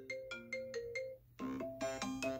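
A stock iPhone 11 ringtone previews in clean, repeating melodic tones, first a short five-note pattern and then a brighter, denser chiming phrase, close and clear without any talking.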